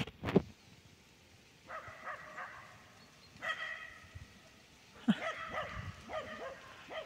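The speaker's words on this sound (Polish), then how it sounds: "On na te samochody szczeka." A dog barks at parked and passing cars in a few short bursts spread over several seconds, with a sharp thump at the start and a car faint in the background, all heard at a moderate distance.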